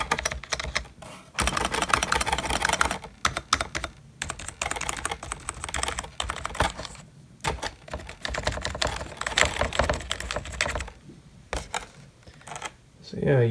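Rapid, continuous keystrokes on a Flagpower R7000 backlit gaming keyboard, smooth and only mildly clicky, with dense tapping and brief pauses heard up close throughout.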